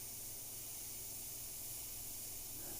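Paint sprayer spraying paint, a continuous steady airy hiss held close throughout, quiet and unbroken, no talk.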